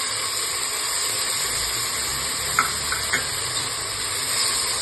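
Tomatoes and ginger-garlic paste sizzle steadily in a pan for mutton curry, a continuous hissing fry with a few soft stirring clicks, no talking.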